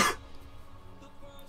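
A single short cough at the very start, sharp and close, then only a quiet room tone for the rest.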